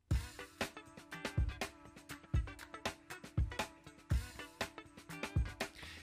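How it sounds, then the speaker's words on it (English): Two rhythm guitar parts from a song cover sit against each other with punchy drums, forming a steady, driving groove of repeated chopped chords and beats at fairly low volume. "I laid down a new guitar part and panned it to the right speaker against this original guitar part"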